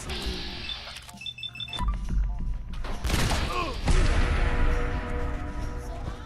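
Gunfire in Fallout 4, a series of thudding shots and impacts in a combat scene, under game music and chatter, with a person talking.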